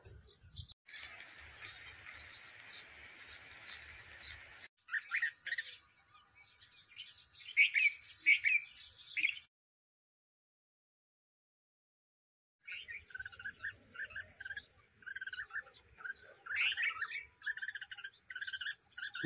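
Small birds chirp and twitter near a nest with eggs, in quick bursts of high calls that drop to silence for a few seconds midway before resuming.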